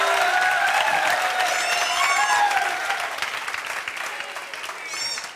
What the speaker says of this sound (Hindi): इनके लिए भी एक बार जोरदार ताली बजा दो